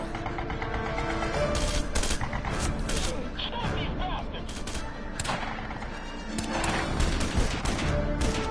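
Gunfire in the Red Faction game as a prisoner is shot: loud, rapid bursts of shots and thuds, with crashing impacts that continue throughout over a busy game soundscape.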